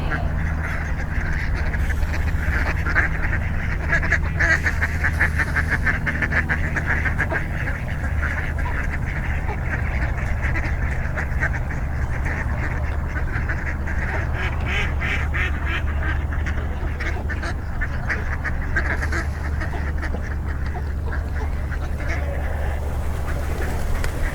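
Ducks quack on and off across a summer nature preserve, set against a steady bed of outdoor ambience with no pauses.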